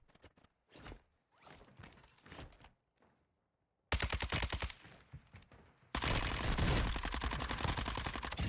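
Gunshots from an assault rifle in a shooter game: scattered distant shots at first, then after a pause loud, rapid automatic bursts that grow denser and closer, continuing to the end.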